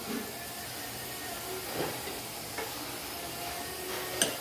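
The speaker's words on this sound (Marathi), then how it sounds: "बघा किती छान फोडणी आली इथं" A tempering (phodni) for dal sizzles in a pan with a faint, steady hiss, broken by a few soft stirring scrapes and a brief sharp clink near the end.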